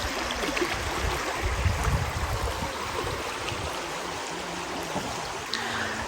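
The Pynia river flows steadily, a continuous rushing and babbling of water, close and fairly loud, with no voices.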